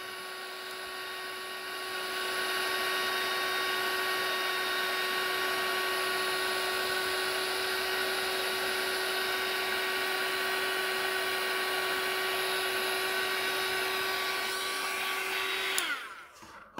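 A hot-air heat gun runs as a steady, loud blowing whoosh with a fixed tonal whine, ramping up over the first two seconds, holding constant, then cutting off near the end.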